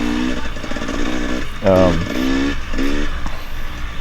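A carbureted racing motorcycle at a C 30+ class race buzzes loudly and continuously, its engine note rising and falling through revs as it runs, with a voice talking over it.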